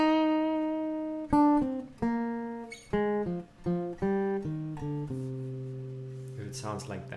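A minor chord sounds up close, played as a sequence of separate picked and struck notes that ring and overlap, building to a sustained chord, quiet overall with no voices.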